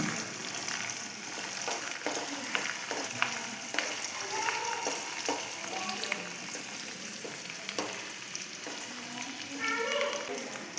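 Lemon pickle fries in a pan with a steady, close sizzle while a spoon stirs and scrapes it in repeated irregular strokes throughout.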